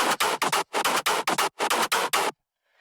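A tearout synth pattern, chopped and reshaped with stretch and pitch shift, fires in choppy rhythmic bursts of gritty broadband noise, loud and dry, then stops abruptly with a faint tail.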